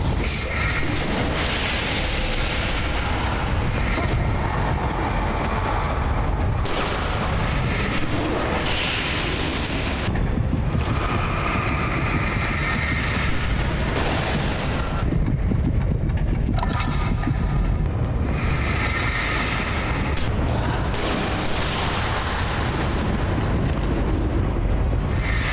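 A shotgun fires again and again in Alan Wake Remastered, loud booming blasts spaced a few seconds apart over dense, continuous game noise with no voices.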